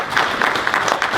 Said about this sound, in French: On peut vous applaudir, monsieur Roger Leget.